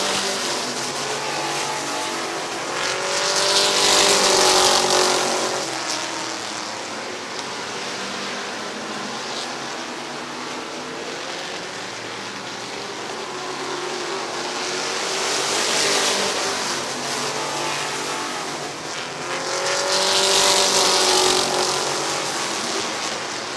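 Race cars circle Midvale Speedway, their engines swelling loud as packs roar past and fading between laps in a repeating wave, a continuous droning race with no voices.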